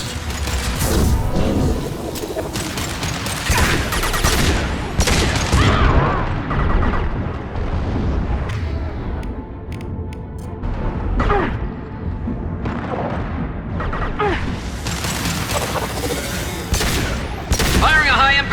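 Rapid bursts of gunfire and booming explosions fill a sci-fi shooter video game battle, loud and dense throughout, with repeated blasts rising and falling among combat sound effects and faint game voices.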